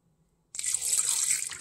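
After a short silence, bottled water is poured over celery in a blender jar in a steady, continuous stream that hisses and splashes close by until the end.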